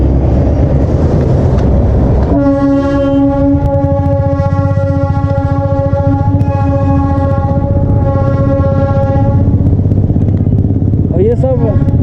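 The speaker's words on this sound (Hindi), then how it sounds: "और ये दूसरी ट्रेन भी आने लगी" A second British-era heritage steam toy train arriving on a hill line, a long, loud tonal whistle that holds for several seconds over outdoor rumble, with talk throughout.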